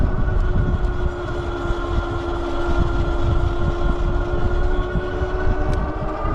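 Wallke H9 all-wheel-drive e-bike climbing a very steep back-road hill on throttle alone, giving a loud continuous motor and road rumble with a rattle from the rear running steadily throughout.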